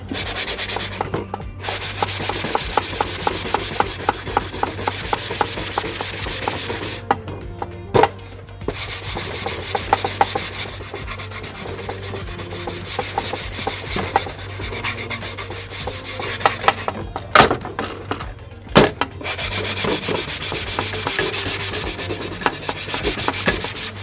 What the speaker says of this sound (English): They can have a moment to dry while I very quickly sand this.